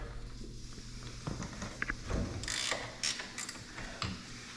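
Ratchet wrench loosening the brake caliper bolts on a Can-Am Maverick X3 during wheel bearing work, heard as close mechanical clicking and metallic clunks in short bursts, with no talking.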